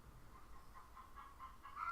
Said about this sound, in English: I'm gonna go shut this chicken up.